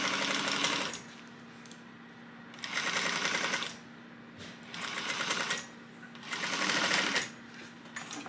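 A sewing machine stitches a seam at a 3/8-inch seam allowance, running in four loud, steady bursts separated by short quiet pauses, with a faint hum underneath.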